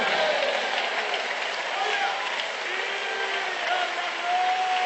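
Church congregation at a Pentecostal convention service in Bucaramanga clapping and cheering steadily, a dense continuous wash of applause with scattered raised voices and shouts throughout.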